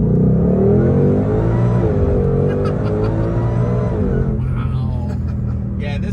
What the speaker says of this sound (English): I do hear the supercharger whine when you wind it out like that as well